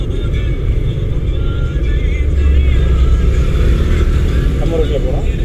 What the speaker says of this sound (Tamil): வண்டி ஸ்பீடு மெல்ல மெல்ல எச்சாகுதுங்களா?